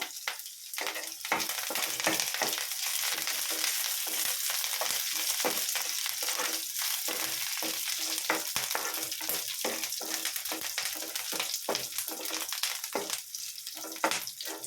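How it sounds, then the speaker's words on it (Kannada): Garlic sizzles and crackles steadily in hot oil in a pan as it cooks for a cassava pepper fry, with occasional stirring scrapes. The frying is close and fairly loud, with no talking over it. "ನೋಡಿ, ಇದು ಈಗ ಫ್ರೈ ಆಗ್ತಾ ಇದೆ ಬೆಳ್ಳುಳ್ಳಿ"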